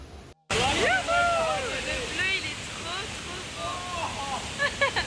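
A waterfall in a Costa Rican park gives a broad, steady roar that rises after a brief dropout, with people talking over it throughout.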